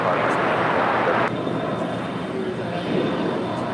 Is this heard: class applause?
no